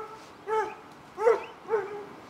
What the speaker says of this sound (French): le chien vient de commencer de chasser au-dessus